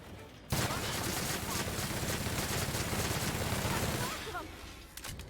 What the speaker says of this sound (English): Why are you shooting things?